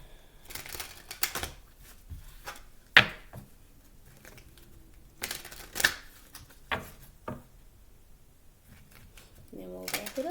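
Kipper fortune-telling cards being shuffled, a series of quick papery riffles and soft taps in short bursts, heard between stretches of a person talking.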